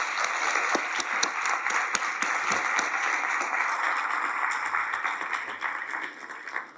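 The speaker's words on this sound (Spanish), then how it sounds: "me ayudan a dándoles un aplauso para agradecerles sus aportaciones" Sustained audience applause after a corporate panel discussion with company executives, a dense steady wash of many hands clapping for nearly seven seconds, tapering slightly at the end.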